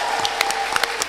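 A quiz contest audience claps in a short, lively burst of applause, dense close hand claps over a faint steady tone.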